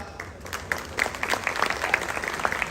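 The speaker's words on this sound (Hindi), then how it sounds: "आप लोगों ने खुले दिल के साथ तालियां भी बजाएं" An audience at a speech about a housing society's overseas block claps in a steady, moderately loud round of applause that continues throughout.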